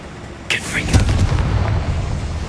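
A Confringo fire spell bursts in Hogwarts Legacy inside a goblin cave, a sharp close blast followed by a rumbling, crackling tail that lingers for a couple of seconds.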